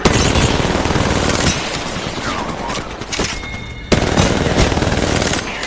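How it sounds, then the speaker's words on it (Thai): Rapid automatic gunfire from the Apex Legends video game crackles in dense, loud bursts, with a brief lull and then a sharp burst of renewed shooting near the end. "มันยิงกันอยู่มันยิงเข้าเลยเข้าเลย"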